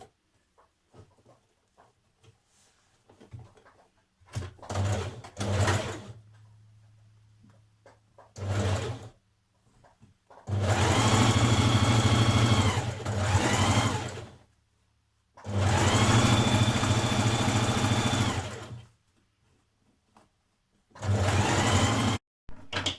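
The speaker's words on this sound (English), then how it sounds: "Now you can stitch around your pocket pieces." A home sewing machine stitching around dress pocket pieces for a Burda 6310 casual dress, running in several bursts of fast whirring stitches of a few seconds each, separated by pauses with small handling clicks and taps.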